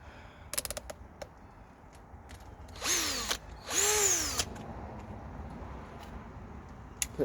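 A Harbor Freight Bauer hammer drill drives regular screws: a few clicks, then two short whining bursts of the motor rising and falling in pitch, each lasting about a second, close and clear.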